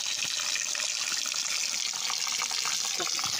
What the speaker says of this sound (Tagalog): pati yan, mayroon din tubig na lumalabas eh